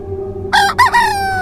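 A rooster crows once, loud and close, in a short broken call with no voices around it, over a faint steady hum.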